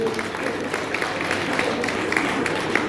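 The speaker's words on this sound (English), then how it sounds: "Can you give the repertoires a good round of applause?" An audience at a YouthConnekt Namibia event applauds the team, steady moderate clapping from a crowd at a middle distance, continuing evenly without a clear peak.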